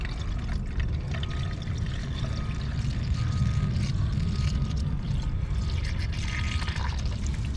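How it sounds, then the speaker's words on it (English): Coolant pours steadily into the inverter cooling system of a Toyota Prius, making a continuous low gurgling flow with a faint background hum. "I guess I'm putting the coolant and then clear the codes and bleed the system."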